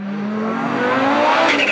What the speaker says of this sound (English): The spinning blades of the turbo chop up that airflow